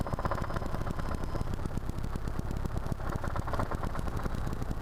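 Helicopter engine with the throttle rolled down during flight training, a fairly quiet steady whirring drone with a rapid pulsing beat from the rotor, no voices.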